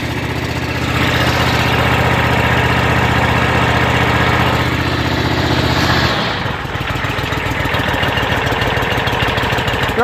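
An engine starts and settles into a steady, loud idle, with a brief shift in tone partway through before it keeps running evenly.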